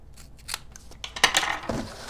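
Scissors snip through the paper ends of a homemade puppet stage, several close, crisp cuts in an uneven rhythm, clearer toward the end, with no talking.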